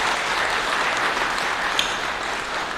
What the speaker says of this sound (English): Let's have a big round of applause for all of our panelists.